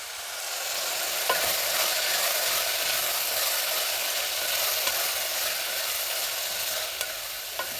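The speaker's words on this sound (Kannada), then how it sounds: "ಇದನ್ನು ಸ್ವಲ್ಪ ರವೆ ಅರೋಮಾ ಬರೋಷ್ಟು ಹುರಿಬೇಕಾಗುತ್ತೆ ಒಗ್ಗರಣೆಯಲ್ಲಿ" Coarse bansi semolina roasting in an oil tempering, stirred steadily so it sizzles with a continuous dry scraping and rustling hiss, close and fairly loud with occasional clicks of the spoon against the pan, no voices.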